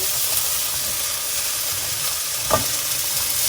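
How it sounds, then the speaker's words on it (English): Mushrooms and grated carrot fry in oil as they are stirred in a pan, a steady close sizzle and hiss with a brief scrape of the spoon, and no talking. "Give that all a stir. Get that nicely sealed in with the oil."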